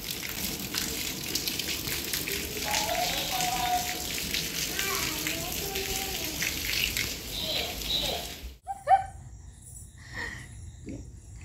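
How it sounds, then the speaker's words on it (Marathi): Steady heavy rain hisses without a break, then cuts off abruptly near the end, leaving a quieter space with a few faint knocks. "आता हा असा पाऊस दिवसभर चालू आहे"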